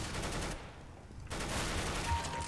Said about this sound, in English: I'm shooting this guy so far away